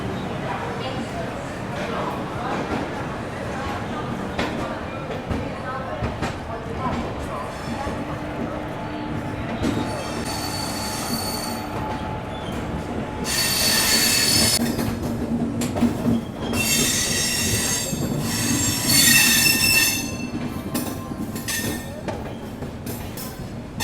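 The Vikramshila Express train rumbles along steadily leaving Anand Vihar railway station, with high metallic wheel squeals bursting in intermittently, over background chatter and station noise.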